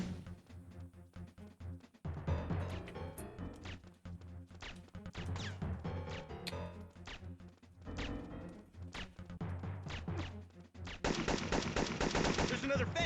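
Rapid gunfire from the video game Syphon Filter crackles almost nonstop, with dense bursts of shots and impacts that keep going at a loud, steady level.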